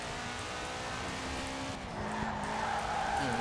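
A Subaru Impreza WRX STi in Forza Horizon 4 sweeps through a corner, its engine drone steady and close, with a brief squeal of tires as it rounds the bend.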